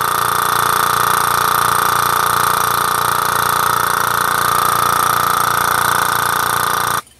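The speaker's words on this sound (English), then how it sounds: "Everything was then vacuum filtered and washed with more water." Vacuum pump drones steadily and loudly while benzamide crystals are vacuum filtered in a lab, a constant mechanical hum that stops abruptly at the very end.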